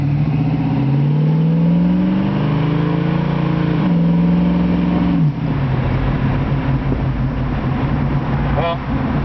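A 1966 Mustang convertible's engine drones and rises in pitch as it accelerates, shifting gears partway through, with steady road noise continuing after.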